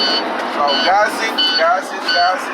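A truck engine is revved in the cab to build up air pressure, making a loud, steady rumbling roar that swells and eases, with whining tones on top and a voice speaking over it.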